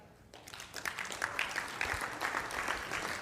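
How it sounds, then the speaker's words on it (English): An audience applauds at a business seminar, steady moderate clapping spreading across the room for a few seconds after a brief quiet start. "Clap it up, I love it."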